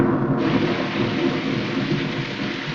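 A thunderstorm in the animated film The Little Mermaid: heavy, steady rain roars loudly and continuously with rumbling thunder underneath, filling the whole scene without any voices.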